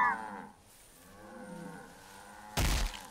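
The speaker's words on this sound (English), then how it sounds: "Just got trampled via cow." A cow lows in a cow-punching video game, a drawn-out moo near the start fading into a low groan, followed by a sudden heavy thump.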